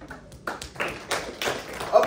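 Classroom applause: a brief scattering of claps and taps from a few people, uneven and moderately close, with some bursts louder than others and soft voices mixed in.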